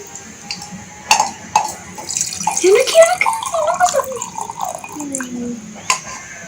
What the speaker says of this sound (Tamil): பாத்திரம் வச்சு அதில் தண்ணி ஊற்றிக்கலாம்